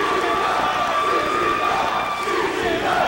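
Big arena crowd roars and cheers for the champion at a Best of the Best event, a dense, loud, continuous wall of voices with whoops rising throughout.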